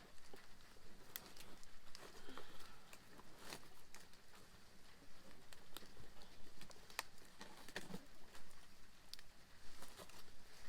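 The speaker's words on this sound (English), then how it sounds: "We're starting to rain already." Light rain begins to patter outdoors, scattered drops ticking sparsely and irregularly against nearby surfaces over a faint steady background hiss, with no talking.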